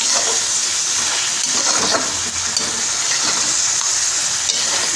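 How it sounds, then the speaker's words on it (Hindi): Mutton frying with garlic and ginger in a pan: a steady, close sizzle and hiss with faint stirring scrapes, loud and unbroken from start to finish, with no talking. "आप लहसुन अदरक के साथ भुनाई करेंगे तो बहुत मज़े की जो खुशबू आती है।"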